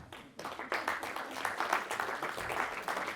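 A conference audience claps in a steady burst of applause that starts abruptly and holds at moderate loudness for a few seconds.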